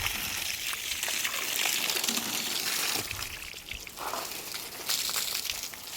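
Water splashes and trickles steadily onto a cement building to cure it, a continuous hissing pour with small splatters throughout.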